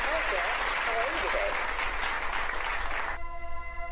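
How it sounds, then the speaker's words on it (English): Applause for a therapist rises as a dense, steady wash of clapping for about three seconds, then gives way abruptly to a sustained electronic tone. "Round of applause for the therapist."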